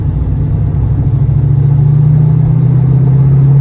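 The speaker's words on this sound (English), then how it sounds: "Car sounds amazing. I mean, it does sound like a stock GT." A 1990 Ford Mustang GT, a stock V8 by its sound, idles steadily with a loud, close, deep rumble and a constant low drone, alone with no voices.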